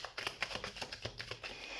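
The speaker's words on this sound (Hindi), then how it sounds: "तो हम कार्ड शफल कर लेते हैं।" Tarot cards are shuffled in quick, soft, even riffling flicks, quiet and close up.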